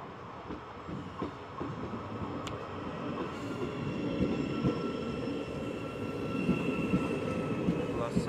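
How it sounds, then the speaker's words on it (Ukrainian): A train arrives at San Sebastián station with a continuous rumble of rolling wheels and faint rail clatter that builds gradually over several seconds, mid-distance and steady. "Так, от мій поїзд іде."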